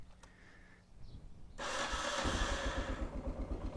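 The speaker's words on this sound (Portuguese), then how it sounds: "Vamos dar partida na moto." A 1988 Yamaha Ténéré motorcycle engine cranks and catches after a quiet pause, then settles into a loud, close, pulsing idle.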